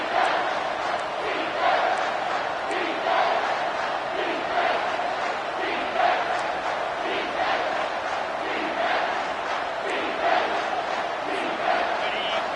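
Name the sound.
home crowd cheering at football game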